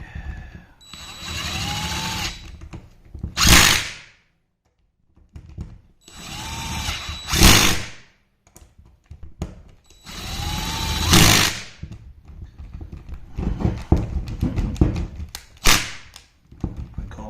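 A power drill runs bolts down on a Mortician weapon bar build, three separate whirring bursts of about two seconds each, each ending in a sharp rising whine. Quieter clattering and handling noises fill the gaps.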